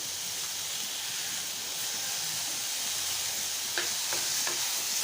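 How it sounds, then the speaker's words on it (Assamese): Soaked moong dal frying in a pan, a steady bright sizzle and hiss running throughout at close range, with a few faint clicks of stirring near the end. "ইয়াৰ পিছত মই তিয়াই উঠাই থোৱা মুগু দালিখিনি ভাজিম, ভালদৰে ভাজি লম।"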